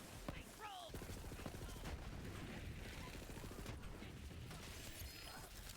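Rapid automatic gunfire from a new gun in Borderlands 3, a dense continuous stream of shots during a fast slaughter-farm fight, with a brief rising electronic tone near the start and game effects throughout.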